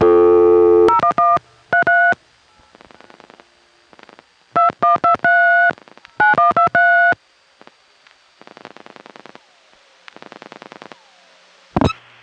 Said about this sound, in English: during and after my dialing of the number, you can hear both rotary dial and touch tone crosstalk